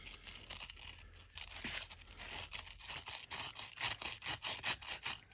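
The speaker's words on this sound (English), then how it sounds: "I use a 3/4 inch chisel. And you just start back and forth." A 3/4 inch chisel scrapes back and forth inside a cast concrete bonsai pot, making a steady run of gritty, rasping strokes that grow slightly louder toward the end, close up and quiet with no voices.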